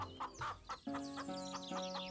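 Chickens at a chicken shop in an animated story cluck in short repeated calls, followed by a sustained, rising, crow-like call. The sound is close and faint, with no talking.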